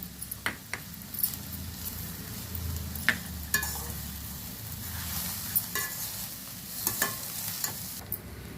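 Carrot rice stirred in a pan on the stove, with a steady low sizzle under scattered scraping and clinking taps of the spoon against the metal, close and fairly quiet with no speech.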